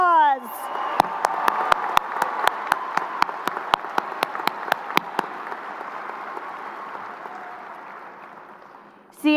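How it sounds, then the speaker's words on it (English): A high school graduation audience applauds its seniors with sustained, even clapping across the hall, while sharp regular percussive hits sound in the first half and the applause slowly fades toward the end. "Please give these seniors a round of applause."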